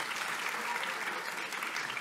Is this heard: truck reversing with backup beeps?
no